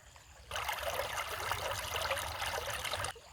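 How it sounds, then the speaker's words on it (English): Rainwater rushes down a road turned into a small river after a big thunderstorm while rain still falls, a steady hissing flow of water that starts abruptly, holds constant and then cuts off. "So our road turned into this nice little river,"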